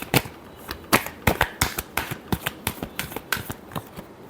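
Tarot cards being shuffled by hand, a quick run of crisp, papery riffles and slaps in a steady rhythm, close and fairly quiet with no talking.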